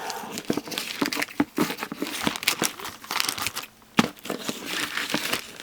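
Continuous crinkling and rustling of plastic packaging close by, with sharp tearing crackles and uneven bursts as it is handled and pulled open.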